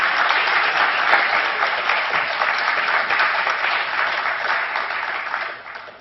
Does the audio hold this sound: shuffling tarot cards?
no